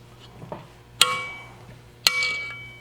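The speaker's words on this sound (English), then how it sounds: "I'm just gonna put my wrench on here and kind of break it loose" A wrench bangs sharply twice against a metal lock nut on a resin-casting pressure pot, each metallic clank ringing out briefly, with faint handling noises in between.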